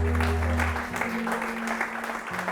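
A church congregation claps together for Jesus at the close of a Sunday prayer. The applause is a dense, continuous patter from many hands, with a low hum underneath, over a short stretch.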